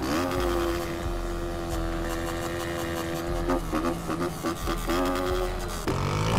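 A motorcycle with a drilled exhaust in GTA San Andreas revs loudly and continuously, its raspy engine note rising and dipping with throttle blips over several seconds, close and alone.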